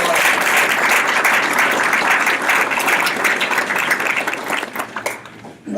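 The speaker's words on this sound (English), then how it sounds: "One more round of applause." Audience applauding county commission candidates at an evening Emmet County candidate forum; steady, dense clapping across the room that thins and fades toward the end.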